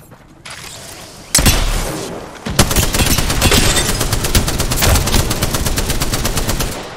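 Rapid bursts of automatic gunfire in a video game firefight, loud and close, with a sharp opening blast followed by sustained rattling volleys and brief pauses.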